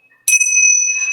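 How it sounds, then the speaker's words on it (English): Tingsha bells struck once, giving a bright, sharp metallic strike that settles into a clear, sustained ringing tone, close and alone, still sounding at the end. "I went out and bought myself some tincture bells"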